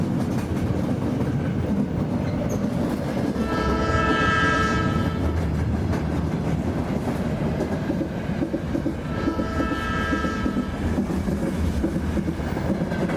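Suburban train running into a station, a continuous rumbling roll with rhythmic wheel clatter and two brief horn-like tonal swells, steady and fairly loud with no talk.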